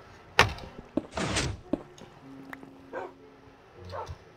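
Two dogs bark: a sharp yelp followed by a longer run of loud close barking, then a few scattered quieter yips and whines, with no talk.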